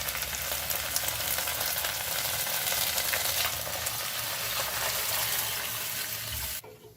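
Chili chicken gravy bubbles and sizzles in a pan, a dense, close, even frying hiss that runs for several seconds and then stops abruptly.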